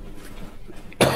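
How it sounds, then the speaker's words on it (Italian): A single short cough rings out near the end inside an abandoned tannery building, after a quiet stretch of faint room noise. "Questa tosse non è bella."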